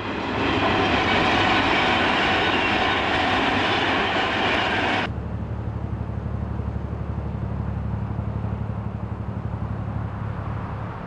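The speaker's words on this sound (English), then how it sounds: "You only hear the trains once in a while" A train rumbles past close by a canal lock with loud rushing noise that drops abruptly to a steady lower clatter of wheels on rails.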